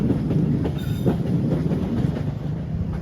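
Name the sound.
Parahyangan passenger train shunting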